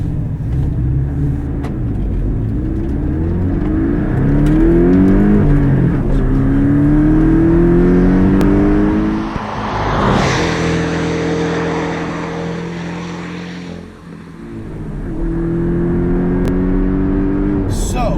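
A 2018 Porsche 718 Cayman GTS turbo engine revs and climbs through the gears while driving, the pitch rising in repeated sweeps with a brief drop between shifts, loud and close.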